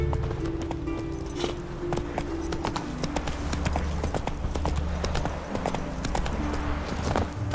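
Horse hooves clip-clop steadily along in The Witcher 3, a continuous walking rhythm of close, distinct hoof strikes over low ambient game music, with no talking.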